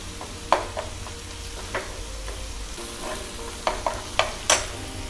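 Raw onion masala for Maharashtrian stuffed brinjal sizzles steadily in a pan, with sharp scrapes and clicks from a spoon stirring it at irregular intervals, close up and without talk.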